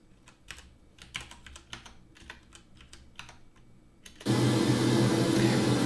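Loud, steady broadband hiss of white noise bursts on abruptly from a Raspberry Pi speaker test and holds without a break, following a run of light key clicks of someone typing on a keyboard.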